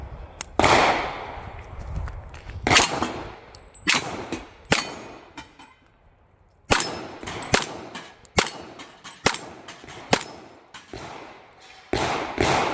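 Shots from a Fusion Firearms 1911 pistol built on a PSA frame, fired outdoors: sharp loud cracks spread over the clip, some in quick pairs with a few fast strings, each followed by a short decay, and no talking.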